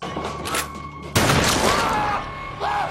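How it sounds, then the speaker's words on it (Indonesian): A gunshot from the horror film We Are Still Here, a sudden loud broadband blast that cuts through an earlier tonal hum and rings on as a dense, noisy tail, followed by a faint rising tone near the end. "Dave kemudian datang dan segera menembak kepala May hingga membuatnya tewas"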